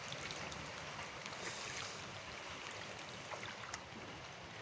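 Heavy monsoon rain pouring and floodwater flowing around a house in Bangalore, a faint steady wash of splashing water with no talk.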